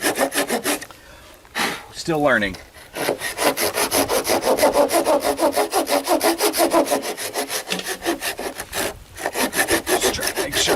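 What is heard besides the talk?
sawing a wooden joist by hand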